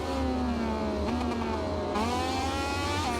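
A motorcycle engine in a MotoGP video game bounces off the rev limiter, a high buzzing whine that climbs, stutters and climbs again in repeated bursts, steady and close.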